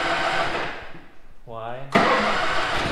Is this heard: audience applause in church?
no